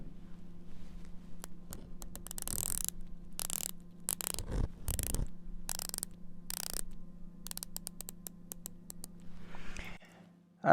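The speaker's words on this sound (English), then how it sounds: "The bezel action, you can listen to it right here." The ratcheting bezel of a dive watch turns in bursts of crisp, close clicks, with short pauses between turns, over a faint steady background hum.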